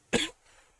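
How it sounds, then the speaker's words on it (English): A single short, harsh cough sounds close by, then quiet. "bloody irritated cough."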